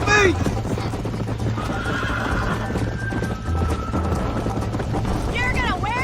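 A horse whinnies sharply at the start in the video game Red Dead Redemption, then hooves clip-clop in a steady galloping rhythm under a continuous low hum, with another neigh near the end.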